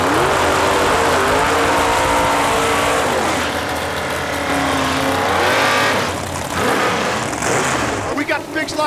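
At a drag strip, a 1970 Dodge Charger and a 1977 Ford Mustang II rev loudly and continuously, their engines rising and falling in pitch as they stage at the line, with no talking over them.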